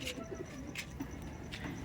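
Pigeons, including a female, coo at a loft with several birds for sale. Soft repeated coos sit close amid bright chirps and background noise, with faint talk underneath.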